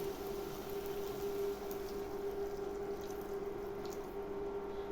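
About a hundred grams of water pours into a pan of mushrooms coated in flour for a sour cream mushroom sauce, a steady, continuous watery hiss with a constant low hum beneath it and no talking.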